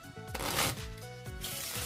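A deck of playing cards being shuffled once at close range, a dense riffling flutter of card edges that builds and then settles over about two seconds, with no voices.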